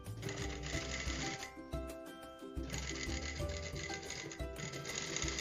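A sewing machine backstitches a sleeve seam with bias binding, its steady close mechanical whir running in long stretches, broken by short pauses before starting again.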